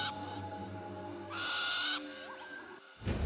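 An owl in the video game Far Cry Primal lets out a clear, close hoot, with other soft game ambience and tonal sounds around it and a sharp noise at the end.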